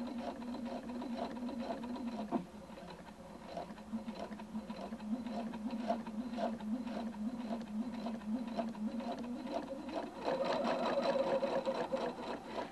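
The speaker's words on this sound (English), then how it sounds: "Your Designer 2 sews in reverse as long as you hold the reverse button in." A Husqvarna Viking Designer II sewing machine runs steadily in reverse, a continuous close mechanical whir with rapid stitching ticks, growing slightly louder near the end.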